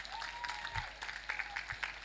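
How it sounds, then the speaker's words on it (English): A small audience claps for Mr. Kitaka, a performer at a school music, dance and drama competition, steady scattered applause at moderate volume with a faint tone and thumps underneath. "Okay, clap for Mr. Kitaka."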